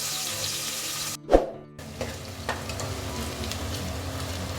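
Chopped onion and whole spices (dried red chilli, cardamom, clove, cinnamon and cumin) drop into hot oil for a mutton curry, giving a sudden loud sizzle burst that settles into a steady, quieter frying hiss with occasional stirring clatter.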